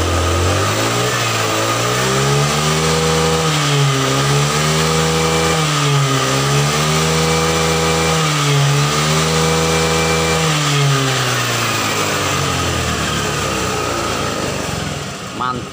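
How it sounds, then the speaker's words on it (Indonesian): A Honda Vario scooter engine fitted with a new carburetor vacuum idles smoothly, then revs up and down in repeated swells before settling back, loud and close, with someone talking over it. "Kita gas ya, suara mesin juga beriringan dengan gas kita."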